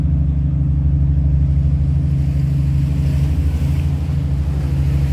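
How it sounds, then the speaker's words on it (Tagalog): A steady low rumble of water and wind with constant churning, like strong sea waves washing nearby at Tung Chung, Lantau Island, Hong Kong, alongside a droning boat motor. "Uy, ang lakas ng alon."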